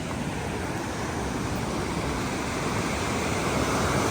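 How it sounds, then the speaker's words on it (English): Water rushing steadily past an 1828 stone structure with six archways, a continuous broadband roar that stays loud and unbroken throughout, with no voices. "You can hear the water rushing"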